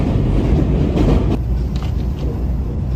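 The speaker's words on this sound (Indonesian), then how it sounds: "Sini keretanya masuk terowongan." A train in Japan entering a tunnel, a loud, steady rumbling roar with faint clicking of the rails, the sound dense and enclosed from inside the carriage.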